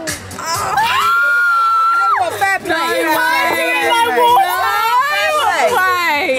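A small group of women cheer and whoop loudly at a party on a girls' trip in Ibiza, with high excited voices overlapping in a sustained burst and brief chatter mixed in.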